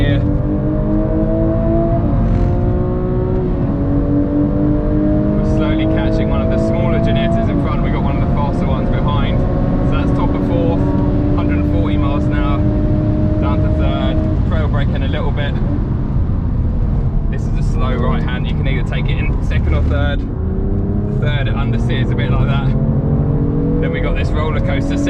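A Volkswagen Mk8 Golf R driven on a wet track, its engine roaring loud and close through gear changes and rising revs, with tyre and spray noise throughout and a voice talking over it.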